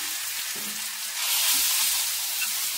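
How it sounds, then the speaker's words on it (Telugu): Pounded wood apple paste drops into a hot tempering with the stove off, giving a steady broadband sizzle that swells louder about halfway through, with no talking. "పోపు వేగిపోయింది. స్టవ్ ఆఫ్ చేసుకొని ఈ దంచుకున్న ముద్దని వేసుకుంటున్నాను"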